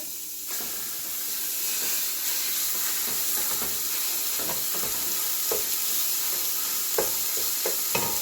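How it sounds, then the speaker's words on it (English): Ground meat for chili browns in warm olive oil, giving a steady sizzle and hiss throughout with occasional sharp crackles and stirring clatters near the pan. "I'm just going to add my meat in here"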